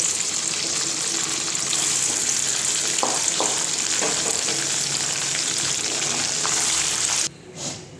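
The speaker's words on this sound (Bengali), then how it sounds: "এরকম করেই কিন্তু আমি সব পনিরগুলো ভেজে নেব।" Paneer pieces fry in hot oil with a continuous dense sizzle and a few soft clinks, the sound dropping away abruptly near the end; no speech.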